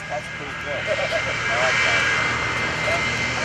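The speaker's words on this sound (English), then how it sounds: "This is a custom-built jet bus." Custom-built jet-powered school bus at an airshow, a loud continuous engine roar sustained throughout with broad rushing noise, steady and fairly near.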